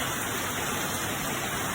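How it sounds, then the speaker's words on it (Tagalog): Heavy rain pours steadily in a dense, continuous hiss that fills the whole moment, loud and close with no other sounds standing out. "lakas ng ulan na"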